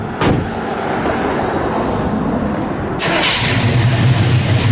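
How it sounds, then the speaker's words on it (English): A 1967 Chevrolet C10 shortbox custom truck with dual exhaust cranks briefly, then fires and settles into a loud, steady idle rumble close by. "Fires right up."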